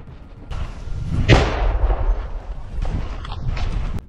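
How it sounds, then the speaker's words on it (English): FAB aerial bombs striking positions in the Kondratovka area near Sumy: a heavy blast bursts out about a second in, then a long rumbling roar follows, with further distant booms and crackling near the end. "the Russian Air Force are striking Ukrainian armed forces positions in the Kondratovka area near Sumy with FAB bombs"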